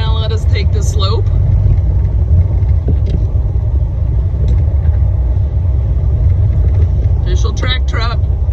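A Jeep engine rumbles steadily as it drives slowly around a track in Daytona. The low, loud drone runs throughout, with people talking briefly over it near the start and end.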